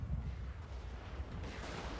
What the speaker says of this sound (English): Cannons are firing.